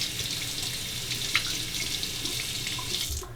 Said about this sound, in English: Let's remove that, rinse it off.